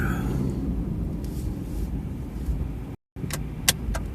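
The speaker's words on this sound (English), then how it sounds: "now a car's coming" A car passes nearby, its broad low rumble steady throughout amid outdoor street ambience, with a brief cutout near three seconds and a couple of sharp clicks afterward.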